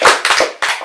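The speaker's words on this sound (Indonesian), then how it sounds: "Minta tepuk tangannya dong." Several quick, sharp bursts of audience hand clapping at an arts festival theatre performance, loud and close, with short gaps between the bursts and no talking.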